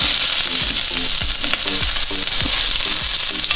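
Garlic and onion frying in hot cooking oil for a Filipino pinakbet-style dish, a steady close sizzle broken by repeated scraping and stirring strokes at a fairly regular pace, with no one talking.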